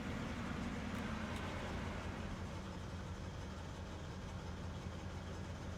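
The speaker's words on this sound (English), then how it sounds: "Yeah, that truck is still running." A truck engine idles in the video game SnowRunner as a faint, steady low rumble that runs unbroken, with no voices present.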